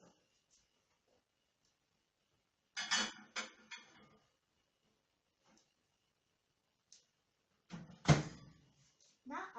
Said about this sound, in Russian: Ставим в микроволновку.